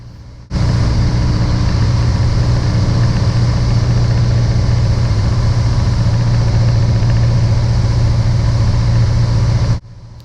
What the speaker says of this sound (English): Here I'm reducing engine speed and bringing out 1 notch of flaps to help reduce altitude and airspeed.